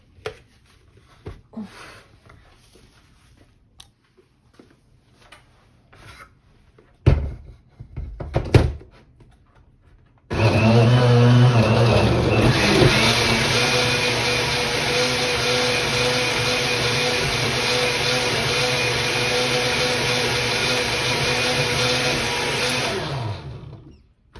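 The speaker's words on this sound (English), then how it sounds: "So let's blend these ingredients together first." A blender whirs through banana and mango for homemade ice cream. A few knocks and thumps come first, then the motor roars loud and steady for about fourteen seconds before cutting off.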